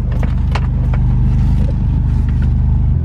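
A Toyota Tacoma truck driving along, its steady engine rumble and road noise constant and close throughout, with a few light rattles above the low drone.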